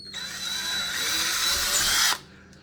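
A power drill runs continuously for about two seconds, boring a hole for a towel rack, a loud steady high whine that cuts off abruptly.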